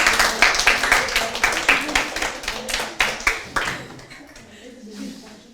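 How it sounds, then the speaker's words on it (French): An audience applauds at a religious talk, a burst of clapping that fades out over several seconds, with a voice talking over it. "Vous pouvez applaudir, ne vous gênez pas."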